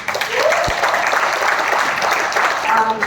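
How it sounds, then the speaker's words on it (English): An audience at a musical show claps steadily for a few seconds, a dense continuous patter of many hands, with a brief voice audible at one point. "Let's give them a big round of applause."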